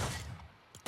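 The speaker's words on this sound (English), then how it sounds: "he's got a little explosion splash effect there" A Fortnite hammer pickaxe inspired by Genos from One Punch Man sets off an explosion splash effect: a short, muffled burst that decays quickly, then a second brief hit at the end.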